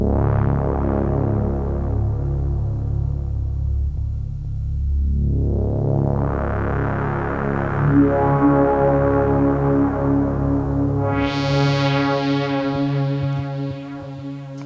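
A Black Corporation synthesizer modelled on the Jupiter-8 plays rich, buzzy sustained tones as a filter slowly sweeps open, closes and opens again. The brassy, evolving drone suits a synth-style film cue and plays with no talking.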